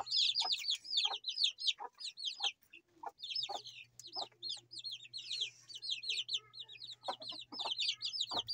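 Hens and chicks in a screen-walled coop bedded with rice hulls, a busy stream of high peeping chirps and soft clucks, close and continuous, with a faint low hum underneath.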